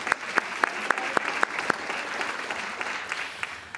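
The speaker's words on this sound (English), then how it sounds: "Let's give them a round of applause." An audience claps for foundation board members at a college awards event, a few sharp claps standing out in a quick rhythm before the applause thins into softer scattered clapping.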